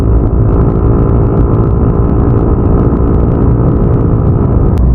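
A motorcycle engine runs loud and close, a steady, dense roar held continuously with no pauses and no voices.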